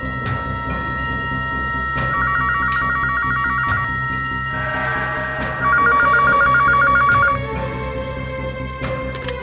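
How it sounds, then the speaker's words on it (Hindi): A telephone rings in repeated electronic trills, loud and close, two bursts of ringing over a steady background hum. "फोन लगा के देखता हूं, घर पे होगा तो फोन जरूर उठाएगा।"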